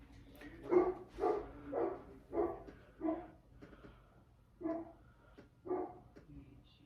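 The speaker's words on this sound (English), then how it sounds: "Noelle's barking." A dog barks about seven times in a steady series, moderately loud and fairly close, with short pauses between barks over a quiet room.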